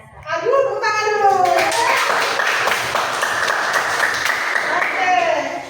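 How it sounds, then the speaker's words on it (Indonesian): Students in a junior high school classroom clap together in a steady, close round lasting several seconds, with children's voices calling out at the start and end. "Aduh, tepuk tangan dulu."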